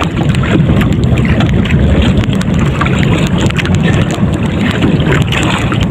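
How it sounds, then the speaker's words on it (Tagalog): Strong wind roars steadily across the microphone at sea during night spearfishing in the Philippines, a loud continuous low rumble with water sloshing beneath it, no voices. "Lakas ng hangin."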